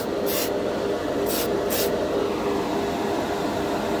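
Tamiya PS polycarbonate spray paint is sprayed onto a plastic model in three short hissing bursts, the last two close together, over a constant background hum with no talking.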